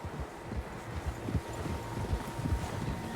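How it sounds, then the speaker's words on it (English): Several horses gallop in Red Dead Redemption 2, their hooves clattering in a quick irregular rhythm over a low windy background, with no talk. "Horses, quite a few."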